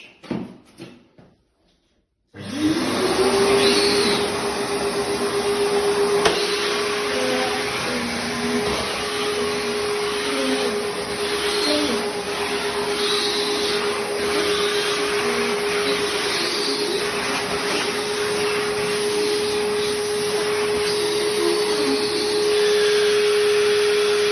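A loud wet vacuum machine starts up after a brief quiet moment and runs continuously with a steady drone and whine, close by, with no talking, picking up cleaning solution from a tiled floor during rust stain removal.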